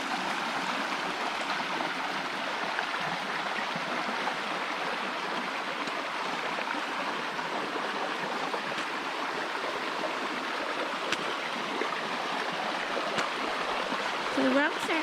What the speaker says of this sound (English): There's a little trail going right down to the brook.